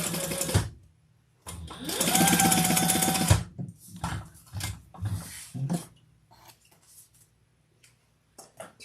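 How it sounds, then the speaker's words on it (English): A sewing machine top-stitching fabric for a training treat bag runs in a steady, whirring burst of about two seconds, close and loud. Shorter bursts and handling noises follow, with no talk. "Turn that and top stitch."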